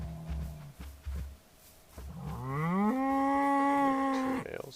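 Video game cows moo in the Towncraft world, starting with a few short low grunts and rising into one long, loud, drawn-out moo, with no talk.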